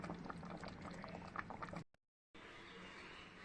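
A pot of mango peel pickle simmers, close, bubbling and popping in a thick, steady burble that cuts out to silence briefly midway before resuming.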